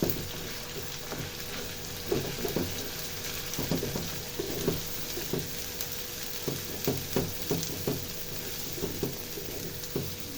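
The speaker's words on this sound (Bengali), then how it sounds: "আমি ভালো করে সবকিছু একসাথে মিক্স করে ২-৩ মিনিট টানা নাড়তে থাকবো" Beef brain frying with cumin and coriander powder while being stirred steadily in a pan, a constant close sizzle broken by repeated scraping strokes of the spoon, with no voices.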